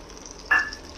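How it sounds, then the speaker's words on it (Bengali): Lentils fry softly in a hot pan, a steady low crackle with one brief sharp hiss partway through, no voices. "ডালটা অলমোস্ট ভাজা ভাজা হয়ে গেছে"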